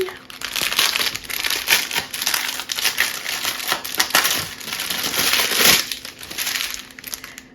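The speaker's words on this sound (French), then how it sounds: "Les diamants, je vais les ouvrir." Plastic packets of diamond painting beads being torn and crinkled open up close, in irregular bursts of crackling and rustling with brief pauses, no speech over it.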